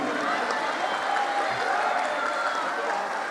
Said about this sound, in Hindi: इनके लिए एक बार तालियां।